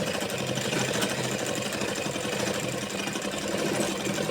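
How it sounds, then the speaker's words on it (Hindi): A sewing machine runs through the front crotch seam of ladies' palazzo pants, giving a steady, fairly loud motor hum with fast needle chatter that lasts the whole stretch, with no talking. "तो हमने आगे की पार्ट की आसन की सिलाई लगा दी"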